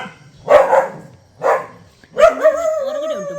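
A dog barks three times at close range, loud and sharp, the last bark drawn out into a whining, tonal yelp, with no talking.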